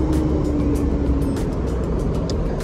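Buses arrive at the Kudus bus terminal in Indonesia on a busy pre-Eid travel morning. A continuous low rumble of heavy diesel engines idles and rolls in nearby, with occasional hisses and clatter over the steady drone.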